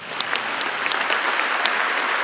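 Applause fills the chamber of the Philippine Congress during a presidential State of the Nation Address, a dense, steady patter of many hands clapping throughout, fairly loud and unbroken.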